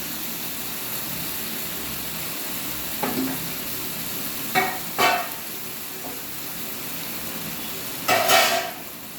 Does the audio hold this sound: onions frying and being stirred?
yes